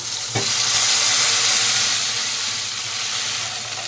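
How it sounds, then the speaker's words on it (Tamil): Steady, loud sizzling of green chillies frying in hot oil, a continuous crackling hiss with a brief stir near the start and no voices. "பச்சை மிளகா பார்த்திங்கன்னா இப்போ வந்து ஆயிலில் வந்து வதங்கிடுச்சு"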